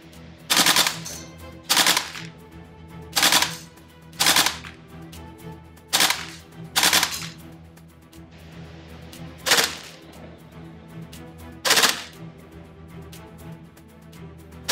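An airsoft AKM rifle shoots biodegradable BBs, giving about nine sharp, crisp cracks at uneven intervals of one to two seconds, each standing out clearly over a faint steady background.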